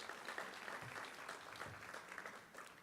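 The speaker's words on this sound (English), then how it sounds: "A big round of applause for all of our congressional members." Applause from an audience at a San Antonio celebration of a first nonstop flight, honoring congressional members; steady, fairly faint clapping from a crowd, continuous throughout with no voices standing out.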